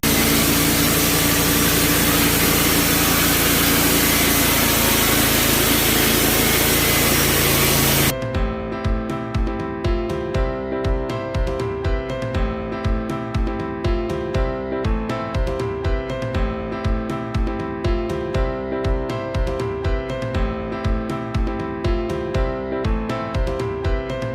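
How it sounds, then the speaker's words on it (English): A Wood-Mizer sawmill cuts cedar: a loud steady spray of sawing noise gives way to a rhythmic, pulsing engine-driven running tone, close and continuous with no voices. "Cutting up some cedar right now."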